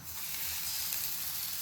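Besan dhirde batter sizzles steadily in a hot pan, a close, even hiss with no breaks and no voices.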